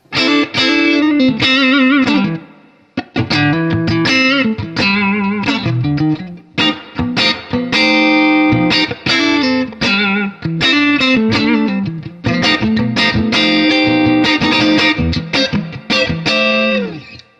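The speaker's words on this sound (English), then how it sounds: "Without the tube driver, this is straight 68 Super Reverb with the Strat." Electric guitar, a Stratocaster on the bridge pickup straight into a 1968 Super Reverb tube amp, playing chords and riffs with a warm, slightly driven tone, loud and continuous apart from brief pauses.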